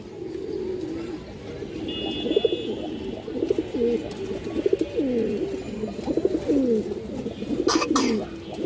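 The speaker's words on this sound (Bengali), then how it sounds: "এই দেখেন কবুতর দেখেন দর্শক, একদম পিওর জোড়া আছে, রানিং জোড়া আছে দর্শক।" A breeding pair of pigeons coo repeatedly in soft, rolling phrases that run through the whole stretch, fairly close, over a faint background hum.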